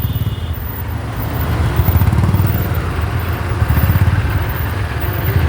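A motorcycle fitted with an aftermarket exhaust silencer idles and revs in heavy traffic, its loud pulsing low engine throb close and continuous, with other traffic around it.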